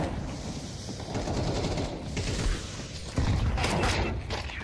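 Gunfire from a Counter-Strike match, with bursts of rapid shots and mechanical clatter layered over a dense game mix, sharp impacts recurring through the stretch at moderate loudness.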